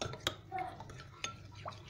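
A spoon stirs a dense icing-sugar batter in a bowl, giving quiet scraping swirls and a few sharp clinks against the side, close and faint with nobody speaking.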